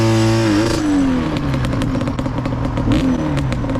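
A game motorcycle engine drones steadily at close range with a pitch sweep near the start, alongside faint clattering and scraping, loud and continuous throughout.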